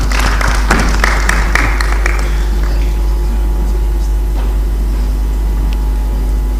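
Audience applause at the AUC Mjadala Afrika Leadership Debate 2024: a burst of clapping from the crowd in the first few seconds that thins out and fades, leaving a steady room hum with a few scattered claps.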